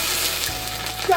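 Old ginger and onion hit hot oil in an iron wok over a wood fire, producing a steady, dense hiss of frying that stays close and continuous with no clear words.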